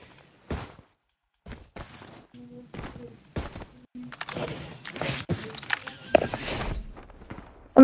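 Call of Duty Mobile gunfire crackles in sharp, scattered bursts and single shots amid footsteps and impacts, with players talking in between.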